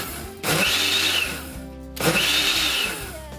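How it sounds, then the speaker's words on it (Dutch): A kitchen blender runs in two bursts, each lasting about one and a half seconds, mixing a smoothie of banana, milk, water, sugar and ice. Its loud whirring motor sounds close, with no talk. "Dan doe je dit allemaal in de blender en zet het op stand P."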